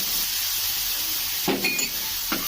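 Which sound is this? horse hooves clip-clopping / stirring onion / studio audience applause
stirring onion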